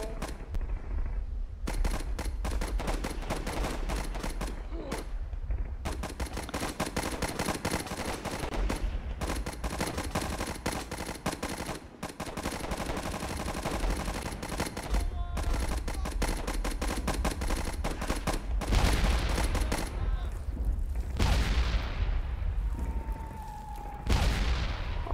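Machine guns rattle almost without pause in the World War I game Warfare 1917, loud rapid bursts layered with scattered shots and booms, with short gaps between volleys and no talk.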